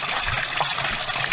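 Steady moving water in a backyard frog pond, a close, continuous trickling and gushing wash with no voices over it.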